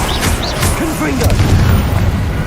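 A Confringo explosive spell from Hogwarts Legacy bursts with a dull boom, followed by a short crackling tail, loud and close, with game voices sounding over it.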